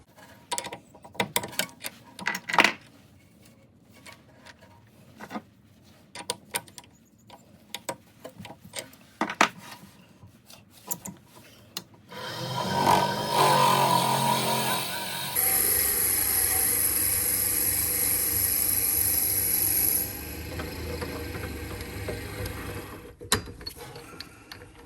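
A power drill bores through a wooden workpiece for segmented Celtic knot scallops, a sustained whirring bite lasting several seconds after scattered handling clicks and knocks, then a steady high-pitched motor hum that cuts off, close and without speech.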